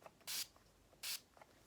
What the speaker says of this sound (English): I'm gonna take a setting spray